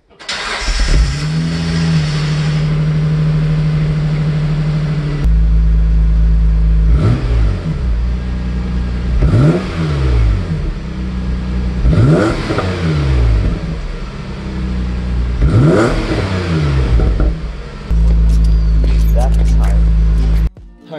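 A Mitsubishi 3000GT fitted with only a downpipe and no further exhaust starts up and idles loudly, then is revved repeatedly in rising and falling bursts before settling back to a steady idle near the microphone.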